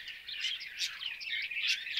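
Budgerigars chirp in a busy aviary of breeding birds, with a steady stream of high, twittering calls and a few sharper bursts standing out, fairly close and continuous.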